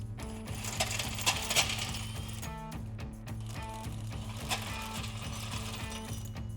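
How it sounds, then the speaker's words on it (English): A ratcheting socket wrench with a 21mm socket backs out tow hook bolts on a Jeep Wrangler JL, quick repeated clicking bursts with a faint mechanical hum beneath, fairly quiet and close. "Then we can remove these two bottom bolts that are holding in the rest of our tow hook."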